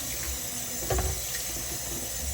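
Water runs steadily from a sink tap in a kitchen, a constant splashing hiss with one brief louder surge partway through and no talk.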